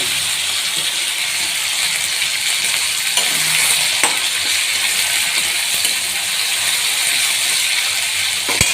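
Tomato, turmeric and salt sautéing in a pan for a prawn dish, a steady close sizzle and hiss throughout with occasional spoon scrapes and clinks against the pan.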